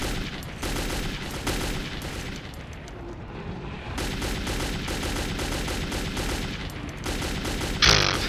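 Rapid gunfire bursts in the video game Metro 2033, with sustained automatic fire and heavy reports rolling almost continuously at high volume.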